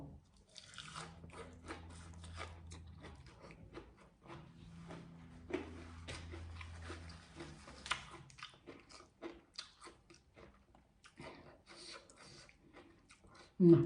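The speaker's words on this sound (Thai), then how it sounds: "สลัดอร่อยกรอบ" Crunchy bites and chewing of a spicy Thai-style winged bean salad with raw blue crab, close and intermittent across the clip, with a faint low voice under the eating.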